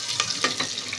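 Spices for a chicken dish sizzle in hot tempering oil in a brief, close crackle, with a few quick spitting bursts over a steady hiss.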